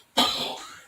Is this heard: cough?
yes